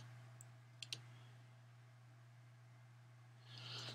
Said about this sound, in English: I'll click my sign in here.